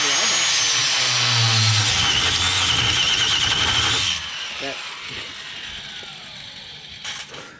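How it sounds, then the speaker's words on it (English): Angle grinder cutting through stiff coil springs from a Mercedes W123 wagon being lowered, with a loud, harsh whining grind for about four seconds, then quieter clanking and handling noises. "Alright, hand me the grinder."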